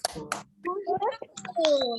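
Children in a primary classroom perform a 'tepuk fokus' clapping chant: sharp claps and snaps punctuate bright young voices calling out in rhythm, close and lively, with short pauses between bursts.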